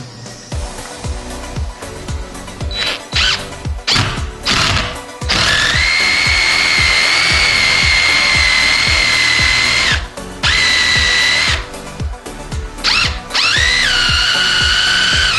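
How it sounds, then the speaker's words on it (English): A power drill bores a 5/8-inch hole up into a wooden landing newel post, with short stop-start bursts of whining motor and then long sustained runs, loud and close, with no talk. "take that 5/8 and drill straight up in there"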